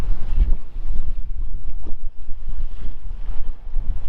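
Wind gusts roar across the microphone aboard a single-handed sailboat off Denmark, a close, steady low rumble with rushing water faintly beneath and no talk.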